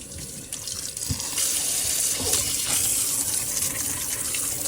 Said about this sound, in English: I'm going to go ahead and give it a good rinse.